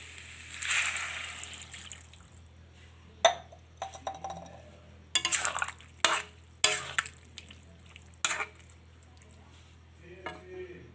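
A glass of water is poured into a pan of jackfruit curry with potato, mango and spices, then stirred, giving splashing bursts, clinks of metal and glass, and scraping stirs in an irregular rhythm over a low steady hum.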